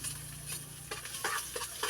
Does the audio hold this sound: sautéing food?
yes